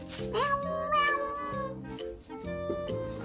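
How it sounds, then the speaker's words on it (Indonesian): A cat's meows stand out over a rhythmic musical backing, with two or three drawn-out, sliding meows heard close and clear. "Gelas kucing. Meow, meow."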